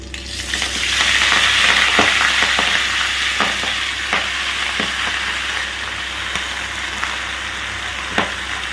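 Spinach greens hit hot oil in a frying pan, giving a loud, steady sizzle close by, with occasional sharp clicks and stirring knocks throughout.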